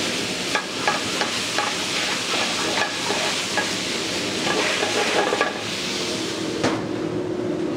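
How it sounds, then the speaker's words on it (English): Red wine hitting the hot pan used to cook veal, deglazing it into a sauce, with a steady close sizzle broken by the clinks and scrapes of stirring. "Deglaze with a little red wine"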